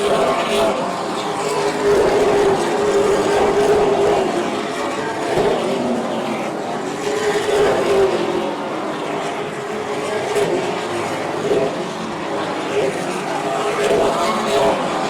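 Super Late Model stock cars race in the Easy-Kleen series Chapman Bros 150 at Oyster Bed, South Carolina. Their engines make a continuous, moderately loud roar that rises and falls as cars pass.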